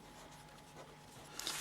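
A pen writes on paper during a geometry working-out, a soft, faint scratching close by that ends in a couple of brisker strokes.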